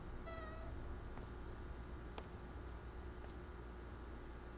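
A cartoon pet cat in the PowerWash Simulator 2 video game gives a single short, bright meow near the start, then only steady background hiss remains.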